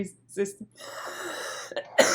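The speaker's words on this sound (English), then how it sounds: "You'll start coughing." A couple of short, harsh coughs close by from a ventilator user during airway suctioning, broken up by breathy pauses and a rushing suction-like hiss.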